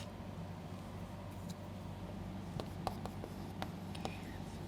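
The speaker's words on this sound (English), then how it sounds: "So let me just write the reason here." Notes being written on a board or paper during a chemistry lesson come through as faint intermittent scratchy strokes over a steady low background hum.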